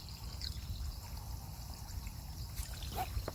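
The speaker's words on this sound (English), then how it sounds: "all this water is going to be running down to the bottom here" Water runs steadily into a 25L water tanker hydration carrier, a continuous close trickling and pouring wash with no talk over it.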